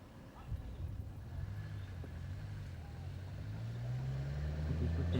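A car driven up by an investigation team in a forest, its engine a low steady rumble that grows louder and rises in pitch as it approaches, with no talk.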